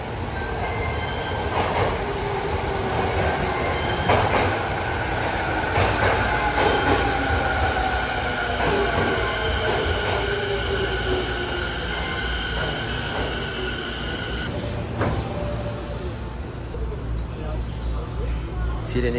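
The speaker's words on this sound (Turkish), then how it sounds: "Trenin içi de böyle." Inside a moving Tokyo subway train: continuous rumble and clatter of wheels with faint squeals, while people talk in the background.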